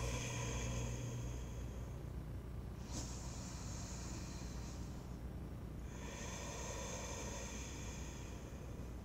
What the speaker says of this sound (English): The breath is like you're trying to fog up a mirror, but you're doing it in and out through the nose.